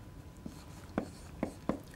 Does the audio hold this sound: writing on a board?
yes